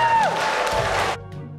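Applause and cheering fill a wedding celebration, a loud burst of clapping from a crowd with whoops over a fading musical tone that cuts off abruptly after about a second.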